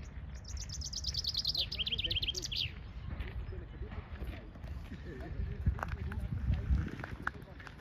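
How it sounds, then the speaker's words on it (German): Songbirds chirp and sing during a spring walk near Lake Lucerne, with a quick run of high, bright trills for the first few seconds, then sparse faint calls over outdoor rumble and footsteps. "Da ist noch der andere Vogel, wo ich jeweils alles gesehen habe."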